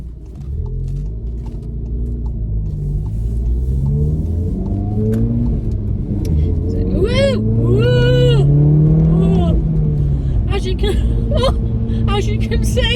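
A VW Golf R with a six-speed gearbox accelerates hard, its engine note climbing and rumbling up through the gears, loud and close from inside the car, with brief talking in places.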